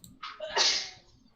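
A single sneeze bursts out alone, a sharp inhaled onset followed by a loud explosive release that trails off quickly, with no talk over it.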